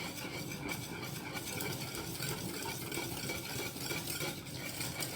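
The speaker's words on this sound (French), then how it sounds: "On mélange, on mélange, on mélange." Food being stirred in a pan at the stove over low heat while mashed potatoes are made, a steady scraping and rubbing that goes on throughout, near and continuous, with faint clinks of utensil on cookware and no talk.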